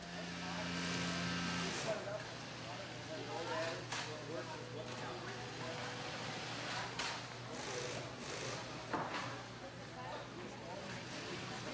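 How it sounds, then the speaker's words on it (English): A heavy-duty sewing machine stitching a BCD body through its back pad hums steadily with a low mechanical whir, punctuated by occasional clicks and clatter, running continuously at a moderate distance. "special heavy-duty sewing machine."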